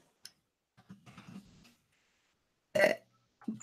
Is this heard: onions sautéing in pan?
no